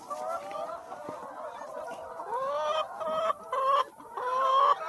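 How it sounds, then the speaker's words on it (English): About 500 hens cluck and murmur together close by while fed black soldier fly larvae, a busy overlapping chorus of short calls that grows louder toward the end. "So there's about 500 hens in here."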